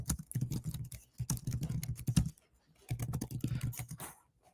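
Fast typing on a computer keyboard, dense bursts of close, crisp key clicks in two runs separated by a brief pause, ending in a few scattered taps.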